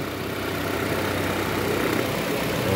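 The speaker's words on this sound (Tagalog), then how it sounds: "May may tumitibok-tibok yung makina." Rough idle from a Nissan Almera engine with its check engine light on, a steady low rumble with an uneven pulsing throb, close and continuous throughout with no talking.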